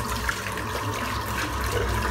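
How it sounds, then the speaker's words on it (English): Steady running water from a tap rinsing soapy lather out of a dense, short-knotted shaving brush at a sink, a continuous close hiss with no talking. "I'm going to rinse the brush out."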